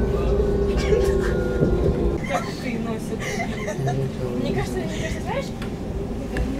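A Moscow metro train near Kutuzovskaya station rumbles steadily throughout, a loud continuous rolling drone with voices talking over it.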